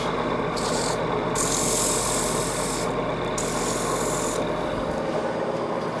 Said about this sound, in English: First I sand the foot by hand.